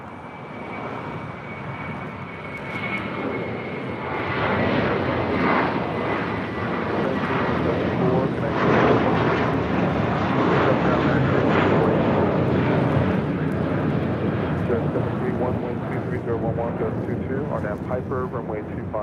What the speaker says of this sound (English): Next takeoff here on the south side is American Airlines flight 1994 heading to Phoenix